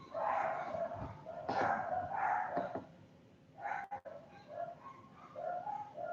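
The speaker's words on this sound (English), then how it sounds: "Dog's barking." A dog barks several times in short bursts at moderate distance, with bird cooing mixed in and no talking.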